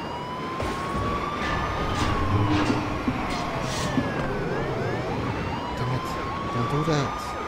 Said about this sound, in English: Nice, I got the sirens.